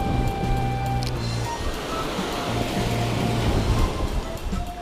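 Strong ocean waves wash onto the shore at a shore-fishing and jigging spot, a constant surging wash of surf, fairly close, with a low tonal hum drifting underneath.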